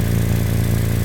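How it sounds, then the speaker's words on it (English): A car engine running steadily at idle with an exhaust leak at the donut gasket, giving a continuous low, rough drone with a faint ticking rattle, loud and close with no voices. "I heard an exhaust leak"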